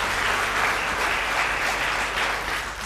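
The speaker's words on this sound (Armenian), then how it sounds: "այս ծափահարությունները հնչում են ձեզ համար" A studio audience on a televised quiz game show applauds a contestant, with dense, steady clapping that stays loud and even for about three seconds.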